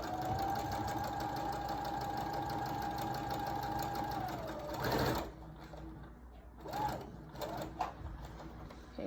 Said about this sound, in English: So you're going to sew down till about 1 inch or so to the edge, and then stop.